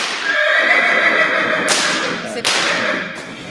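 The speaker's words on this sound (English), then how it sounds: "She's an 11-year-old grade quarter horse mare." An 11-year-old grade quarter horse mare gives a loud, close neigh at a riding horse sale, followed by sharp snapping sounds. Voices carry through the sale ring.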